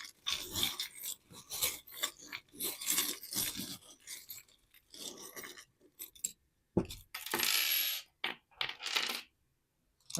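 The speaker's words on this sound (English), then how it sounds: "Y'all know the charms are loud." Loose metal charms and pins rattle and clink together in bursts as they are shuffled by hand for a love reading, loud close jangling with short pauses between handfuls and no voices.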